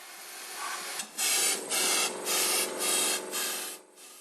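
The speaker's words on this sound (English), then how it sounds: "blow out dust starting from the bottom of the hole" Five short, hissing bursts of air blown into a drilled hole in concrete to clear out dust, each puff about half a second long with brief pauses between, close and fairly quiet.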